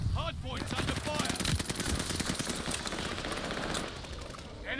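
Rapid automatic gunfire at the hardpoint in the multiplayer shooter Call of Duty: Vanguard, a dense continuous rattle of shots from several weapons with a voice speaking over it.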